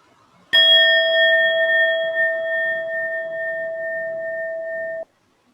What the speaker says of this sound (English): After the gong, slowly open your eyes.